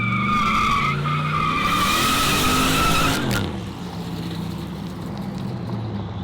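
A car with a freshly fitted motor does a burnout, its engine roaring at high revs over loud, continuous tire squeal and skidding, then easing off after about three seconds while the revving and scrubbing carry on.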